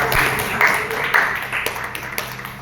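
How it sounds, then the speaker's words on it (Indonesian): Applause from a class of middle-school students, a steady patter of many hands clapping in a room, fairly close and sustained for a few seconds with no talk over it. "Yuk sekali lagi tepuk tangan untuk Lipi dan kawan-kawan."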